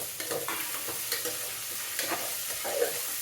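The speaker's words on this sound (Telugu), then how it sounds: "నేను ఇప్పుడు ఇది ఉల్లిపాయ, పచ్చిమిరపకాయ చీరికలు వేసేస్తాను." Sliced onion and green chilli frying in a pan, a steady moderate sizzle broken by repeated scraping stirs.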